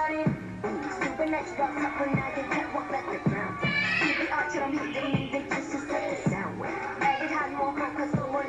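A cat-like meow sound rises from inside a K-pop song, briefly standing out over a dense beat with steady bass hits and layered vocals and synths.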